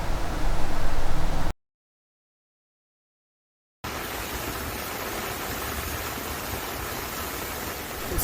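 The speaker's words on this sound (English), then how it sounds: "See this beautiful scenery, how the water is flowing. It looks like a waterfall in Hawaii now." Rainwater pours down a Hawaiian hillside during a major storm, cascading like a waterfall in a steady, dense rush. The roar cuts out completely for about two seconds, then returns slightly quieter and continues without a break.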